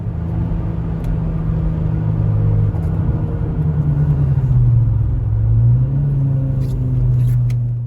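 A Mk2 Seat Leon Cupra K1 on track at Oulton Park, its engine droning loud and close with a steady rumble as it pulls hard, pitch rising and dipping slightly as throttle is eased through bends.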